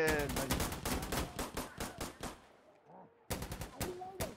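Rapid automatic gunfire in a shooter video game, loud bursts of close shots that pause briefly and then resume, with no talk over them.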